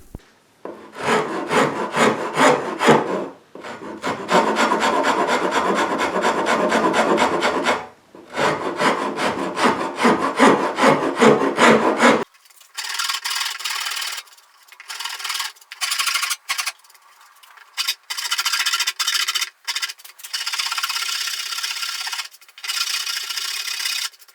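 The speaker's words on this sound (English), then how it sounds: "I'm just going to take one of these half round carving files and start to kind of really tidy this up" A half-round carving file rasps along a wooden guitar neck on an ES-335-style build, with long, rhythmic scraping strokes in close bursts and short pauses between passes.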